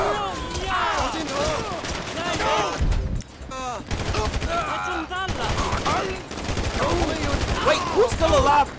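Gunfire and battle chaos in GTA 5 during the ending mission, with dense bursts of shots and explosions running throughout under loud in-game voices and shouting.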